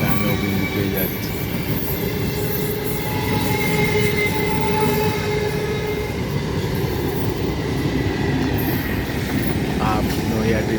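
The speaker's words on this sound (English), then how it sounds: "Up Naihati Bandel local train is moving towards Bandel railway junction." An Up Naihati–Bandel local train heads toward Bandel railway junction with a loud, continuous rumble of wheels and carriages, and faint wheel squeal riding over the steady roar throughout.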